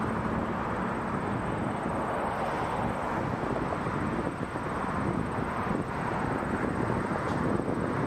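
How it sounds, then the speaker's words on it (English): Boeing 737 MAX 8 airliner at Toronto Pearson Airport, a steady, broad jet roar heard from a distance with wind noise on the microphone, with no change in level. "737 MAX 8."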